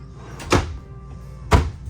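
Two separate solid thunks about a second apart, the sound of storage drawers beneath the seating in a 2022 Cougar 27SGS rear-living fifth wheel sliding shut or opening, close and fairly loud against a quiet room.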